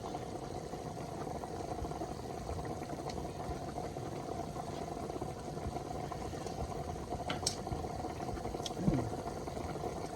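A covered pot of oxtail boils steadily at a low, even roar, with a faint lid rattle and occasional clinks near the end.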